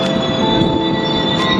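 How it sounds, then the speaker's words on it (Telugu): A train at the small Parvathipuram railway station produces a loud, steady rumble with sustained tonal hum and a faint metallic whine, without a break. "పార్వతీపురం రైల్వే స్టేషన్ అయితే చిన్నదే కానీ"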